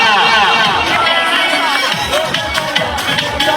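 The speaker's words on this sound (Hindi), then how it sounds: "भरपूर तालियां" A crowd at an award ceremony in Sialkot applauding and cheering loudly, with dense continuous clapping and voices mixed throughout.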